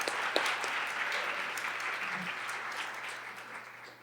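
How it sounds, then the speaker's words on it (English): Audience applause fills the room at a Denver restaurant-industry talk event, a dense, steady wash of many hands clapping that holds throughout and slowly tapers near the end. "a huge round of applause to everyone on our board and everyone who assists with EatDenver"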